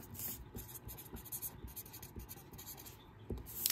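Pen or pencil writing out a math sequence by hand, faint scratchy strokes in short bursts, close and quiet with no talking.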